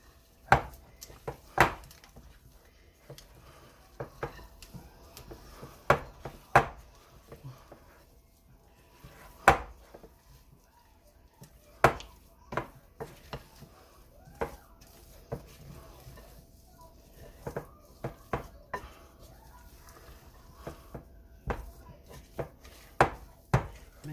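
Easter egg colored candies are stirred by hand into cake mix cookie dough in a bowl, giving sparse, irregular taps and scrapes of a utensil against the bowl over soft background noise.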